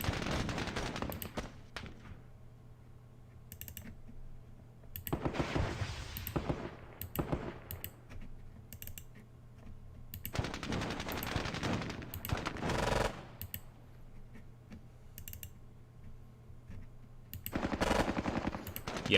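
Bursts of automatic and single-shot gunfire exchanged in the Squad Battles Vietnam war game, loud volleys recurring in clusters with short quieter gaps between them and no talking.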